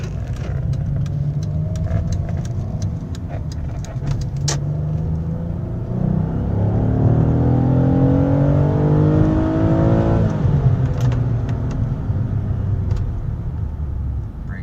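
Car on a test drive in a 35 mph zone, engine rumbling and rising as it accelerates, with loud steady road noise and scattered clicks throughout.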